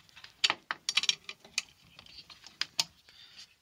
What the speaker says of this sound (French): Donc on prend une clé de 10 et on desserre les écrous.